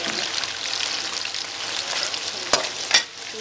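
Onions frying until brown in a pan, a steady broadband sizzle holding throughout, with two sharp stirring clatters near the end and no voices.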